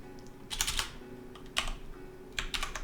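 Fast typing on a computer keyboard, three quick bursts of crisp clicking keystrokes, close and clear over a faint background hum.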